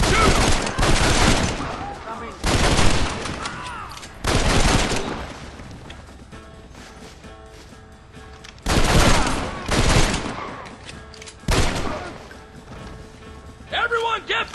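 Gunfire in the Red Dead Redemption video game crackles in several loud, dense bursts of fusillade, separated by quieter stretches of lower battle noise.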